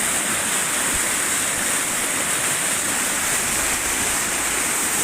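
The Porter Brook in flood, a swollen stream rushing into a culvert, gives a loud, steady roar of churning water with no break, close to the microphone and with no voices.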